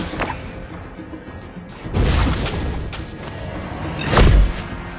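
A turret collapsing in a MOBA battle, heavy booming crashes with a deep rumble, two strong impacts a couple of seconds apart over continuous game noise.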